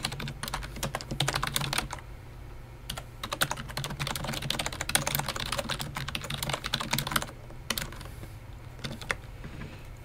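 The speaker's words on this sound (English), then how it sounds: "I'm just going to go ahead and type in a quote here." Computer keyboard typing as a quote is entered into a design layout, a steady run of quick, close keystroke clicks in bursts with brief pauses, no voices.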